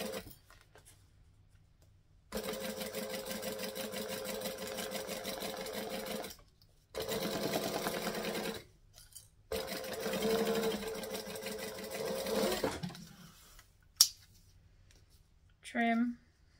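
A sewing machine stitches in several steady runs of mechanical whirring, pausing between bursts, while working a panel for a beach bag; a short snip of zigzag scissors and brief talk follow near the end.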